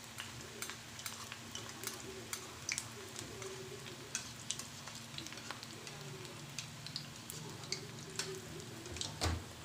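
Pakoda fritters frying in hot oil, a steady soft sizzle with faint crackles and small stirring clicks throughout, fairly quiet and close.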